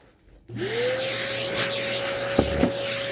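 A vacuum cleaner starts up and runs with a steady rising whine, sucking up small scraps of mink fur cut while turning an old mink coat sleeve into a hood; a couple of brief clicks break in near the end.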